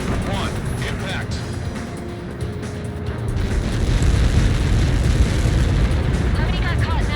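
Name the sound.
explosion in the video game Ace Combat 7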